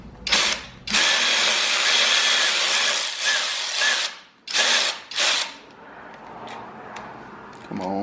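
A power ratchet driver spins bolts off a 2021 VW Golf MK7 engine during teardown, loud long whirring runs broken by pauses and two short bursts, then a faint clatter.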